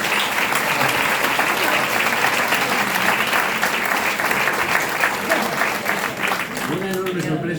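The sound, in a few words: audience applause at book presentation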